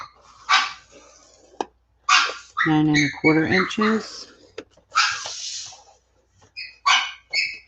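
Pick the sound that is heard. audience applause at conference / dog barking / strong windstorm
dog barking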